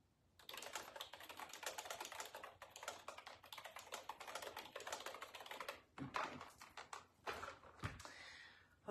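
Steady typing on a computer keyboard, a quick continuous patter of close key clicks that breaks into a few scattered taps and thumps near the end.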